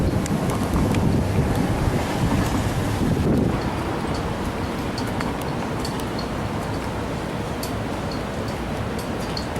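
Strong wind buffets a microphone outdoors on a city walk, a loud continuous rumbling roar with gusts that ease slightly partway through.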